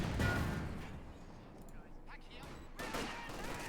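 Bursts of battlefield gunfire crackle through the strategy game Company of Heroes 2 as a machine gun emplacement is destroyed, with dense rattling shots that fade briefly and then swell again over a constant din.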